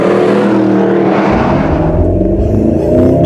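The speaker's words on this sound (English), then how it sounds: "I can't believe how much it sounds like a real exotic car" A Mercedes SLS AMG engine revs hard while driving, a loud, continuous roar climbing in pitch with deep rumbling exhaust, close and alone.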